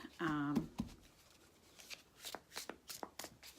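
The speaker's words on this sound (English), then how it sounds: "So I'll do a little deck cut here." A Gilded Tarot card deck is cut and shuffled by hand, a brief riffle burst near the start followed by soft taps and scattered card snaps, close and quiet, with a voice speaking in the background.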